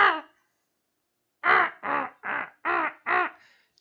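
A raven caws five times in a steady, evenly spaced run of harsh, loud calls after a short opening sound, with silence between; a sound effect in a tabletop role-play session, no talk.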